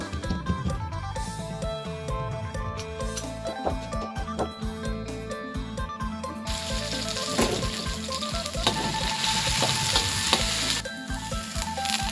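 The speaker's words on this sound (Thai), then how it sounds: "ผัดเครื่องหอมแล้วเราใส่ปลาไหลลงไปเลยนะครับ" Aromatics stir-fried in a hot pan for spicy eel stir-fry give a loud, close sizzle with repeated clatter of a spatula, and the hiss grows brighter and stronger partway through.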